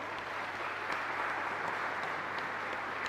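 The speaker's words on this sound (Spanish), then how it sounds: "un fuerte aplauso" Congregation at a live Catholic Mass in a parish church gives a round of applause for a couple's 20th wedding anniversary, a fairly faint, steady patter of many hands lasting the whole moment.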